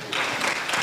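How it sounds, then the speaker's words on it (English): Brief burst of audience applause in a lecture hall at a startup summit, dense clapping from many hands, loud and close, lasting under a second. "Clap."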